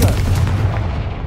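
A Confringo blasting spell in Hogwarts Legacy bursts with a short, heavy boom and rumbling crackle that fades out over about a second, loud and close.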